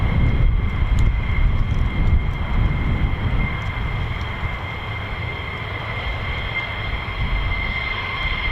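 An F-15E fighter jet at RAF Lakenheath, heard as a loud, sustained engine roar and rumble that eases slightly partway through, with no voices over it.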